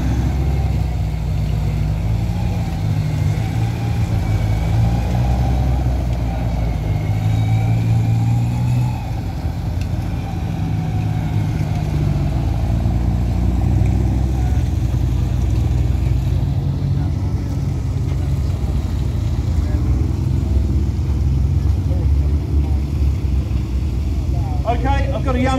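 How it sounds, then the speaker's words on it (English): A T-34 tank at a War and Peace show drives toward the crowd, its engine a steady, heavy low rumble that stays loud and unbroken throughout, with indistinct voices faintly beneath. "And here is the T-34 coming towards us."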